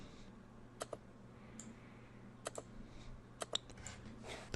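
Sparse, quiet keystrokes on a computer keyboard as a title is typed, with isolated clicks spread out unevenly and close by, alone without speech.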